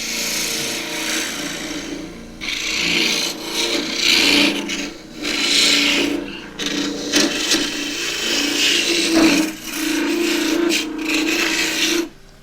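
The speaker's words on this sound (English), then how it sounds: "to get the bulk of the inside out using the 1/2 inch spindle gouge" A half-inch spindle gouge hollows the inside of an endgrain box turned from scrap wood on a lathe, giving loud, rasping cuts in repeated bursts with short pauses between them.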